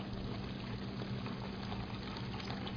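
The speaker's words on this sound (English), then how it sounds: "So we're going to add some tamarind juice" Tamarind juice poured into a pan of bagara baingan, a steady, even liquid rush and sizzle lasting throughout, close and uninterrupted, with no talk.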